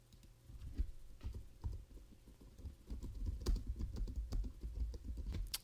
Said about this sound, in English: you simply just type in this field